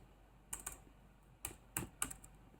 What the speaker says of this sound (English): hold on, I have to type it